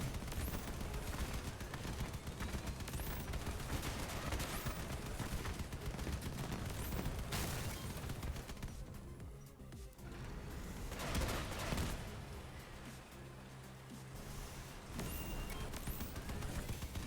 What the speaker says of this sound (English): See, they start firing literally before the machine guns beneath them fire.